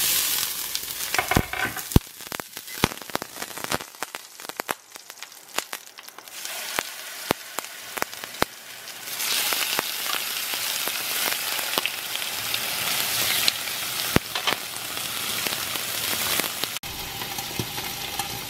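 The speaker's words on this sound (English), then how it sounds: "you wanna be able to hear, again, that really aggressive sizzle when you put the meat down" Chicken pieces for a rustic Spanish-style stew sizzle and fry aggressively in a hot pan, a dense crackling hiss with sharp pops that swells louder partway through and continues steadily without talk.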